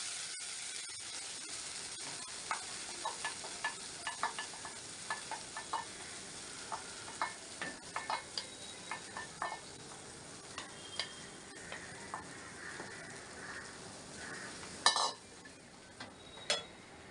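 Tomato and cashew paste sizzles softly in a pan while a spoon scrapes and taps the metal in an irregular rhythm, with one louder clatter near the end; quiet and without voices.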